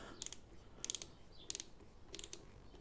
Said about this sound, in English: You see how you can't do servicing without a torque wrench.